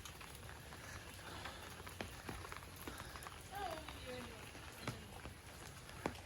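Steady rain falls outside during a power outage, a dense wash of patter with scattered sharper drops and light knocks, while people talk quietly underneath.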